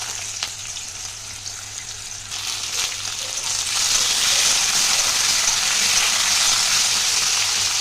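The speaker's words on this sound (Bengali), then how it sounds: "তো আলু কুমড়োটা আগে ভেজে নিতে হবে।" Potato and pumpkin frying in oil, a soft sizzle that swells into a loud, steady hiss partway through and holds, close and without voices.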